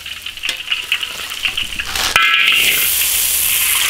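Pork for red-braised pork meets hot oil in a large iron wok. A soft background bubbling suddenly erupts midway into a loud, close, steady sizzle that keeps crackling to the end.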